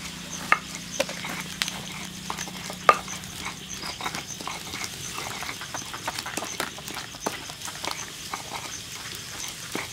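Tomatoes are ground in a stone mortar with a pestle in a village kitchen in Tuban, giving close, irregular knocks and soft squelching grinds, with a few sharper taps in the first few seconds.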